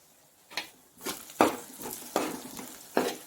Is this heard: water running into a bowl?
no